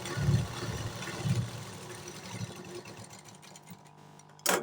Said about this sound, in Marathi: त्याच्यानंतर आपल्याला फोल्ड करून कपड्यावरती दाब शिलाई मारून घ्यायची.